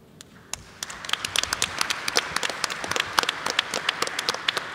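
A crowd at an international conference on the Sendai Framework breaks into applause for its speakers, starting with a few scattered claps and building into steady clapping that carries on alone.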